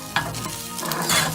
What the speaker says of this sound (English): That butter was sizzling.